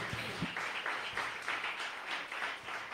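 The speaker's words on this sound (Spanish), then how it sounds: "Dele fuerte ese aplauso al Señor." Steady applause from a crowd, a dense wash of clapping that stays fairly even throughout with no one speaking over it.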